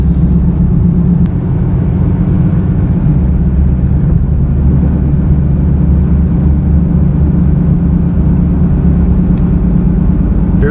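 A car with a bad tire or wheel bearing makes a loud, steady low roar while driving, a continuous helicopter-like droning hum with no talking.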